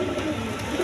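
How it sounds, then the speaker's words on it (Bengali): Pair of Nun pigeons making a brief, soft cooing under steady broadband background noise, with no voices. "এখানে এক পেয়ার নান কবুতর আছে, একদম ডিম বাচ্চা করানো"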